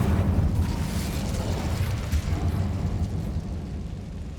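Incendio fire spell blasting in Hogwarts Legacy, a dense, loud roaring burst that rumbles steadily for several seconds with no voices over it.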